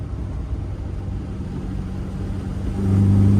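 A Lotus Elan restomod engine with carburettors drones steadily nearby, then swells louder and deeper as it reaches wide open throttle near the end.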